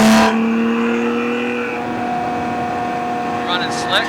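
A white BMW E36 race car on Hoosier R7 slicks cruising a lap, its engine a steady droning hum inside the cabin, with a brief louder burst at the start and people talking.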